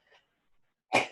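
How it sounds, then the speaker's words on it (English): A single loud, close sneeze bursts out abruptly after a near-silent moment, with a little soft breathing just before it. "I'm getting ready to sneeze."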